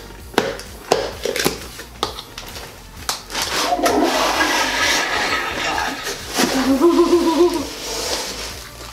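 Toy toilet from the Toilet Trouble game flushing with a gurgling, watery rush after several sharp plastic clicks and knocks, fairly close and loud, with no talking over it.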